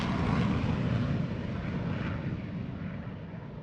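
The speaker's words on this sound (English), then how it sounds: "the mighty F-22 Raptor" An F-22 Raptor fighter jet passes with a broad, rumbling engine roar that stays loud and then fades gradually as it moves away, with no voices.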